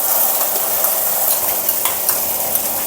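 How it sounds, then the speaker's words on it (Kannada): Coconut chutney paste for chitranna frying and being stirred in hot oil over a low flame, a steady close sizzle with scraping stirs and a few small spatters, no voices. "ಎಣ್ಣೆಲಿ ಚೆನ್ನಾಗಿ ಉರಿಬೇಕಿದನ್ನು"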